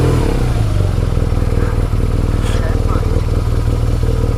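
A motorcycle engine pulls away on a narrow road, a steady loud close throb with a chugging pulse running under light background clatter.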